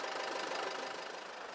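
A Mercedes-Benz MB Trac tractor engine idles at a steady, even rumble with a faint knocking texture, close and continuous, with no talk over it.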